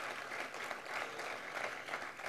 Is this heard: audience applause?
yes